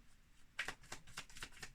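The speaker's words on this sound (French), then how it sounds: "on va mélanger l'oracle écou et on va couper le jeu" A deck of oracle cards being shuffled and cut, with soft, rapid riffling flicks in a quick run, close and quiet.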